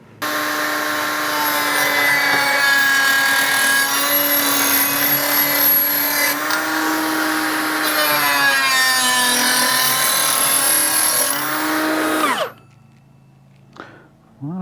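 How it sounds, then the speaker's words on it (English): A Hyper Tough 12V cutoff tool fitted with an 80-tooth blade whines steadily as it cuts through plastic, loud and close for about twelve seconds, then spins down and stops. "let's give this little 80 tooth blade a shot on the plastic and see how it does"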